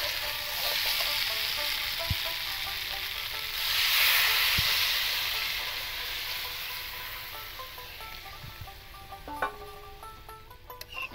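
Potatoes fried with dried red chillies sizzle and hiss loudly in a pan as water goes in, the burst swelling midway and then easing, with occasional stirring clinks and scrapes.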